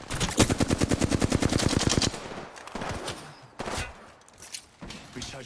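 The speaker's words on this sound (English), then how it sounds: "Taking fire." Rapid automatic gunfire in the video game Apex Legends, a dense burst of loud shots for about two seconds, followed by scattered single shots and game effects.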